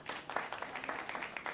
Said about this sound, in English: So please give her also a big round of applause.